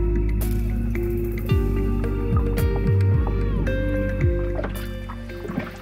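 Oars or a paddle stroking through water from a small boat on the sea near freediving waters, with repeated splashes and drips, a few gurgling bubbles, and low boat rumble throughout.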